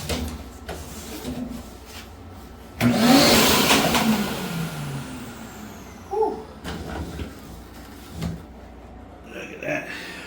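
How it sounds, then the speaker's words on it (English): A vacuum cleaner sucks debris out of a GE commercial dryer, with bursts of loud suction noise, scraping and clunking of the nozzle against metal, interrupted by pauses. "let's vacuum this stuff out"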